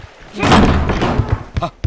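A door is kicked open in a dramatic Malayalam film scene: a heavy thud and crash bursts out loudly, followed by brief voices.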